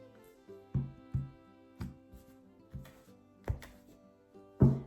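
Tarot cards cut and shuffled by hand on a table, a series of soft, separate taps and slaps at irregular intervals, close and quiet.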